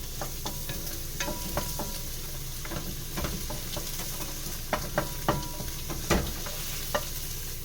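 Onions stir-fried in a pan for Japanese yakisoba, a low steady sizzle broken by repeated sharp clicks and scrapes of a utensil against the pan, close and moderately quiet.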